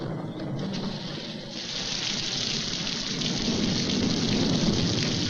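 Heavy rain pours steadily onto a jungle shelter, a dense continuous hiss that swells slightly louder toward the end, with no voices.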